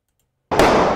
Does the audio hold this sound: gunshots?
yes